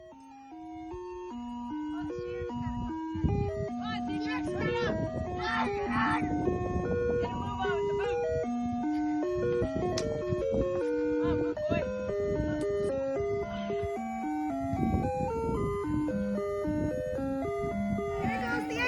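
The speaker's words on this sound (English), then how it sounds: "The ice cream truck." Ice cream truck jingle drifting past a cottage, a bright tinkling melody looping steadily at moderate volume while people chat nearby.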